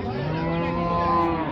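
A Friesian dairy cow at Raniganj cattle market gives one long, low, sustained moo, close and loud with no other sound over it.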